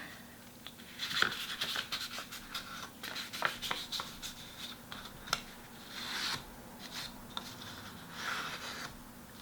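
Paper being folded and creased by hand for an origami bird, with soft rustles, quick crinkles and sharp scraping crease strokes coming in irregular bursts, faint and close.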